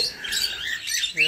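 Parrots squawking and chirping inside a large cage, a continuous cluster of shrill calls with a louder burst near the end.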